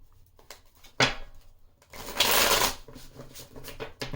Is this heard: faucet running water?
no